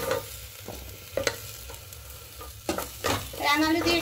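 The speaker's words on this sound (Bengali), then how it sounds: "রাঙা আলু দিয়ে একটু নাড়াচাড়া করে নেব।" Sweet potato and mung dal fry in a pan while being stirred, giving a quiet sizzle broken by several close scraping strokes and a louder rustling burst toward the end.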